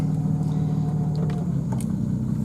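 A 1960 Jaguar Mk2 saloon pulls away in drive, its engine giving a steady low rumble heard from inside the car, with faint clicks and rattles over the drone and no speech.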